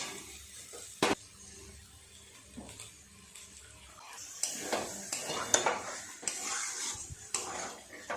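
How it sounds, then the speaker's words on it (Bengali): Chicken fries with spices and beaten yogurt in a pan, stirred steadily: a soft sizzle with a loud utensil knock early on, then louder, repeated scraping and clattering against the pan. "বেশ কিছুক্ষণ সময় নিয়ে এইভাবে সুন্দর করে চিকেনটাকে কষিয়ে নেব"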